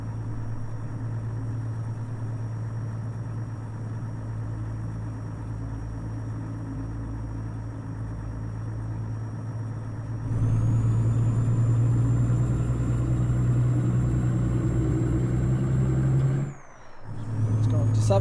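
Euro Truck Simulator truck engine pulling away in 9th gear on an ice road: a steady low drone that rises and grows louder midway, then a brief hissing air-brake-like break before the rumble resumes.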